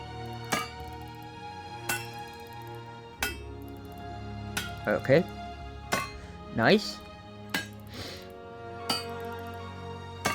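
Wooden pieces being hammered onto a catapult in the Medieval Machines Builder game: a series of separate sharp knocks spaced about a second apart, with a short burst of quicker strikes in the middle and a few brief spoken words between them.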